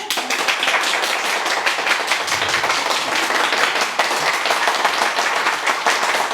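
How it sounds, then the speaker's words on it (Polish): Parents at a kindergarten nativity play in Korsze applaud the child actors, a loud, lively burst of many hands clapping close by that carries on without a break. "Brawa, brawa."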